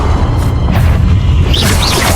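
A Confringo blasting curse goes off in Hogwarts Legacy, a loud, dense booming explosion that fills the short moment, with a swishing whoosh rising near the end.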